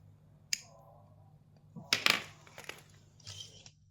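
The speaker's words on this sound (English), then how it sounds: "Seal with a lighter." A sharp lighter flick, then a burst of crackling flame and a brief soft hiss as thread ends on leather are sealed, all close and with no talking.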